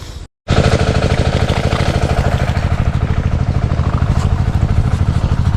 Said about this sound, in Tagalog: so buhayin ko na yung makina para makapagpatubig na tayo